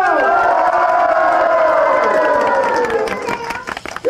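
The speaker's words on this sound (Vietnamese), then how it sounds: "Chúng ta hãy vỗ tay thật nồng nhiệt nào." A loud crowd cheers and applauds at a martial arts contest, a dense sustained roar of voices with whoops and clapping that thins out slightly toward the end.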